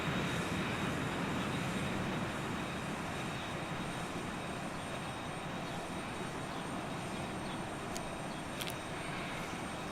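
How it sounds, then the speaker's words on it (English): Steady Challenger 300 jet engine drone in the X-Plane 11 flight simulator, a continuous loud broadband roar with a high whine, holding even throughout with no talk. "it still makes the engine sounds even though the plane is still running"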